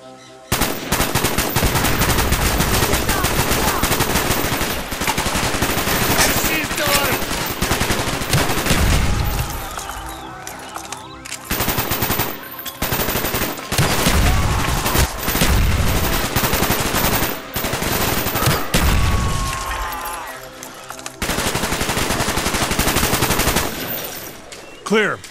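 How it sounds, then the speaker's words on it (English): Sustained automatic gunfire roars in the Call of Duty Black Ops video game, loud dense bursts of machine-gun and rifle fire with a few short pauses between volleys. "Mason, fire when ready."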